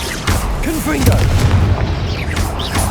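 A Confringo blast spell goes off in the Hogwarts Legacy video game, a loud booming burst with a low rumble that sits amid overlapping spell effects and other game sounds.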